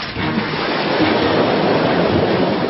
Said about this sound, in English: a 70-foot wave slams the boat